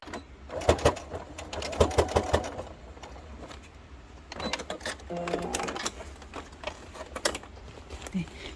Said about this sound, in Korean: 스티치를 놔주세요